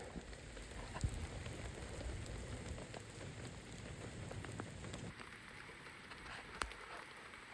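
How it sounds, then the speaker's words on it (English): Heavy rain drumming steadily on a tent's thin fabric during a rainstorm at a Canadian campsite, close and continuous, with a few louder drips and no talking. "Pouring rain."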